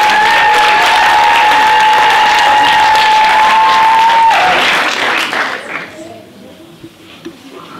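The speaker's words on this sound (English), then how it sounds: "So can we please have a big round of applause?" Loud audience applause at a school song celebration, a dense wash of clapping with a sustained held tone over it that stops partway, after which the clapping fades to a few scattered claps.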